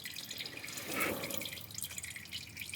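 Old fluid drips from the drain hole of a Lexus IS300 wagon, a steady faint trickle and patter of liquid with no voices.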